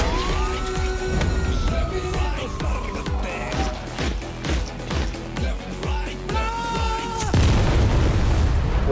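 Film trailer sound for the Malayalam movie Aadu 3: a rising, wailing siren runs over a steady series of heavy, booming explosion hits, loud and dense throughout, ending in a sudden bigger blast.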